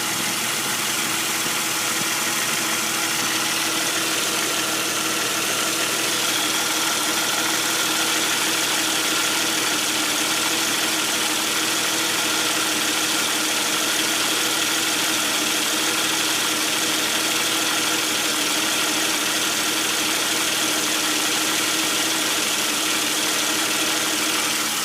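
2004 Jeep Grand Cherokee WJ with the 4.0 engine idling steadily under a broad hiss, an intermittent marble-like rattle mixed into the continuous mechanical drone, heard close with no voices.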